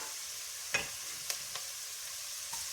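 Garlic fries in a pot for an Irish pot roast, a steady hiss of sizzling broken by a few faint scrapes and knocks of stirring, quiet and without voices.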